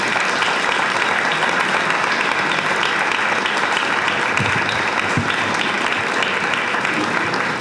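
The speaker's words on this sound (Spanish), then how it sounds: "Merece un gran aplauso." An audience at a tribute event for a man's 80th birthday breaks into loud, sustained applause. The dense clapping holds steady for nearly eight seconds, with no speech on top.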